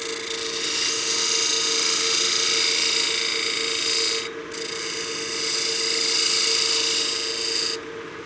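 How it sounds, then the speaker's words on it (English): Spindle gouge cutting a wooden utility box on a lathe: a loud, continuous scraping hiss with a steady hum underneath, broken by two brief pauses as the tool lifts off the spinning wood. "The reason I want to use my spindle gouge is because the bevel angle on this and the size of the tool will allow me to get in there and get a nice clean cut"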